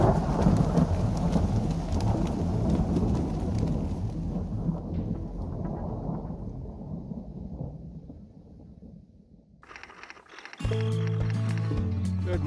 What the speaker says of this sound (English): Had some good storms move in last night.